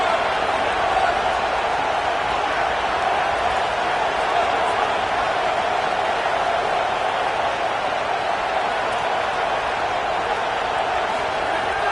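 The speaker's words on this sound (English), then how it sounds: "trying to quiet this crowd" Big stadium crowd at a Florida Gators football game roars steadily on third down, a dense, continuous wall of cheering and noise that holds evenly loud from start to end with no clear breaks.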